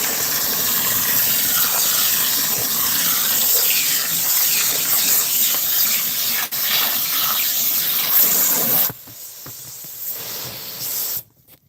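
Clean water runs hard and steadily from a tap, hissing and splashing close by for most of the stretch, then cuts out abruptly with a brief softer flow before stopping.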